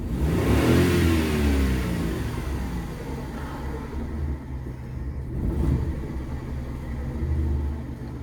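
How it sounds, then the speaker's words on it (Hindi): A car engine starting up in a diagnostic workshop, then revving with a loud, steady rumble that rises, dips and swells again at close range, with no talk over it. "अब हमने वी स्टार्ट द कार"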